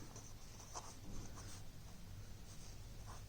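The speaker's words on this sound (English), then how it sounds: "so let us write" Pen or marker writing steadily on a board during a university lecture on artificial intelligence proofs, a faint continuous scratching with small strokes over a constant room hum.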